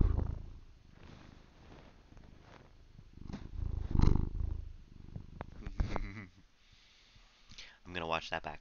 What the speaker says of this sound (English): Would you like to purr into the microphone?